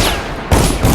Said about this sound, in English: They're shooting towards me